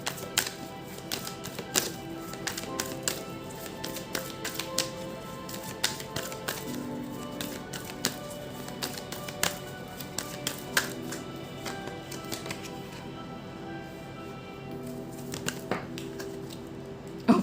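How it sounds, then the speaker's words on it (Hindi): Tarot cards are shuffled in a long run of soft, irregular taps and flicks over a steady bed of background music tones, with a couple of sharper clicks near the end. "so till the time I shuffle the cards"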